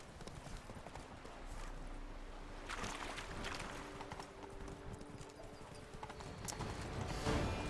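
A horse gallops in The Witcher 3 video game, with steady rhythmic hoofbeats close by under faint background game ambience.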